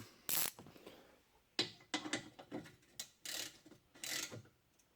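A 12 mm socket on a ratchet snugs the dry-sump drain plug of a Yamaha YXZ 1000R, giving quiet, close bursts of ratcheting clicks and small metallic knocks.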